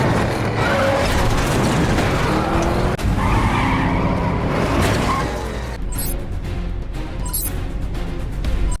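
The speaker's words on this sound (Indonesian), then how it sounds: "Dirinya dan Utah mengendarai mobil untuk mengacaukan perjalanan truk hasil tambang" Cars in a heist film scene speed along and skid while trying to disrupt a mining truck convoy; a loud, continuous roar of engines and screeching tires fills the whole stretch with no talk.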